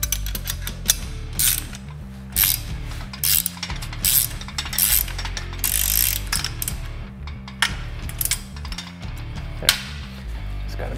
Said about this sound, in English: And secure them with a 1/2-inch lock nut.